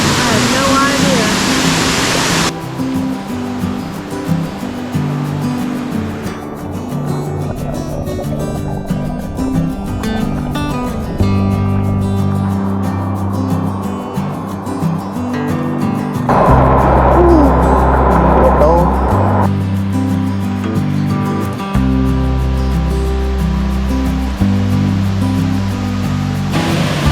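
A waterfall on a New Hampshire hiking trail, a steady loud broadband rush of falling water throughout, with speech and music-like tonal layers over it.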